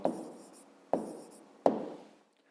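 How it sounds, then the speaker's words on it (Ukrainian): Three separate pen strokes tap and scratch on paper as a short answer is written down, each one a close, crisp contact that quickly fades, spaced about a second apart, with nothing else around them. "Пишемо відповідь."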